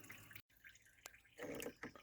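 Engine coolant from a Skoda Fabia 1.9 TDI draining and spilling during thermostat work: close, faint drips and splashes of liquid with a few sharper splatters, under a low background hum.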